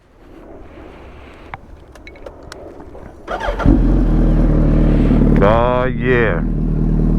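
Motorcycle engine cold start outdoors beside a community pool, quiet wind and handling noises before the engine cranks and catches, then a loud steady idle with a brief rev, someone speaking briefly.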